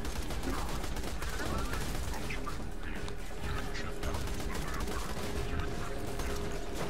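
Constant gunfire and explosions rattle through a Borderlands 2 firefight, a dense steady wash of shots at moderate level with no clear pauses.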